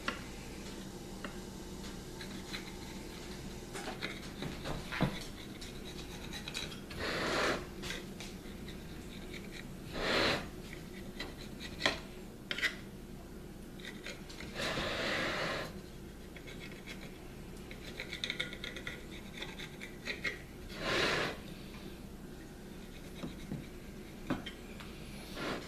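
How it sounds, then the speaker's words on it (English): Excess dough is trimmed off the rim of a skillet for a spaghetti pie, giving soft, quiet scrapes and light ticking taps in scattered bursts. "we will trim the excess dough off here"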